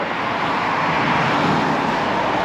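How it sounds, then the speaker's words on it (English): Heavy night road traffic surrounds a car on a busy highway, a loud, constant broadband roar of engines and tires with no breaks. "So much traffic."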